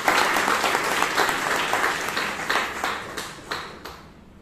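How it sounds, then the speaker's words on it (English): Audience applause at a Toastmasters club meeting in Bangalore, sustained and full with many hands clapping together, gradually thinning toward a few last claps. "Please give him a huge round of applause."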